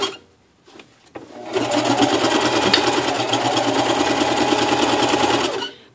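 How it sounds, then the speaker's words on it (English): A sewing machine runs steadily at speed, stitching fabric in a spiral pattern for a costume gown. A few soft handling clicks come first, then a dense, close, continuous mechanical whir that stops abruptly at the end. "you lay it down just like so, and you start sewing in a circular pattern."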